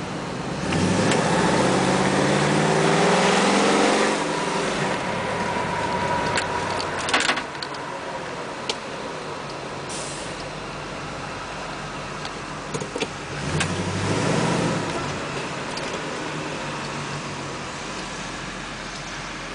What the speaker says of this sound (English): 1973 Ford Grand Torino Sport. Automatic column shifter.